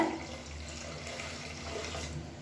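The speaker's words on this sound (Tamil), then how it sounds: "இப்போ தண்ணி சேர்த்துக்கலாம்." Water is poured steadily into a cooking pot for sambar, a soft continuous splashing that is fairly quiet and close, with no voices.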